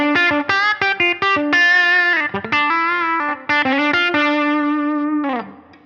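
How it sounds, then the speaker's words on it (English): Overdriven electric guitar through a humbucking pickup plays a quick riff of short chopped notes, then sustained saturated chords, loud and close with a smooth distorted breakup. "a really nice breakup when it's driven by the humbucking pickup."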